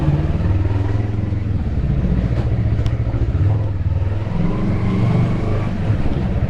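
Motorcycle engine fitted with the original muffler plus a slip-on exhaust, running loud and steady with a deep, continuous rumble close by, ridden through a small city neighborhood.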